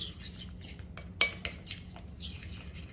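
A spoon stirs melted butter and chocolate chips in a bowl, giving soft scraping with one sharp clink against the side, close and fairly quiet.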